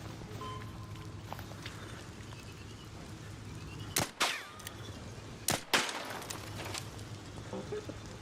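Video game gunfire, a few sharp cracks around the middle, two of them close together and one a little later, standing out over steady background game noise.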